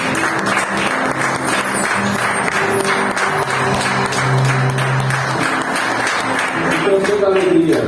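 A Portuguese-speaking congregation claps along during church worship, a steady rhythmic patter of many hands mixed with voices and singing throughout.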